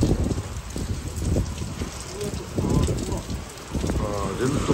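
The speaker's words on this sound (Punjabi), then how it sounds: "ਬਾਹਰ ਮੀਂਹ ਪੈ ਰਿਹਾ ਆ" Heavy rain pours outside at night during a windy storm with lightning, a dense, continuous hiss with low rumbling close by.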